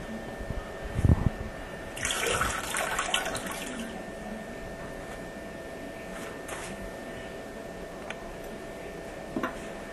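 Water running and trickling as a toilet tank is drained before the tank is removed, a steady low wash with a brief louder splash near the start and some clinks and bursts of flow, no talk.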